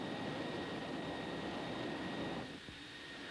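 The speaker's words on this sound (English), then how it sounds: "The aircraft carrying the nuclear weapon arrives in the area" A military aircraft carrying a nuclear depth bomb drones steadily overhead, a broad continuous engine roar that holds level and then eases slightly near the end, with no talk over it.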